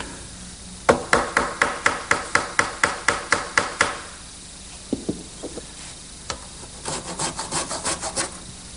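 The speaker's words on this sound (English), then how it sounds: "I'm just going to put a little dab of glue before I drive it in the last little bit" A glued wooden dowel pin is hammered into wood with a quick run of about fifteen sharp evenly spaced taps, a few softer knocks, then another rapid burst of strikes, close and clear.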